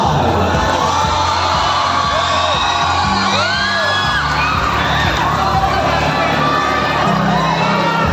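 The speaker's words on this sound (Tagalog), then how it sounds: "Sumigaw ang mga supporters ni number 5." A large crowd of supporters roars for pageant candidate number 5 at a festival coronation night in Burgos, with loud continuous cheering, whoops and shrill shouts from many voices, close and dense throughout.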